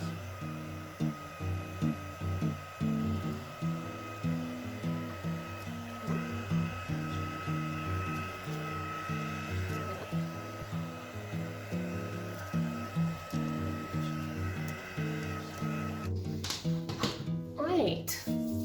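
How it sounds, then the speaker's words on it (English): A heat gun blowing hot air over a pastel painting makes a steady, loud whirring drone that runs unbroken throughout, with a brief clatter near the end. "Let's get the heat gun out."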